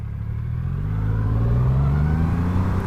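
A Triumph Rocket 3 R 2500cc motorcycle engine pulls in third gear while riding, a smooth, deep, loud drone rising slightly in pitch over a few seconds.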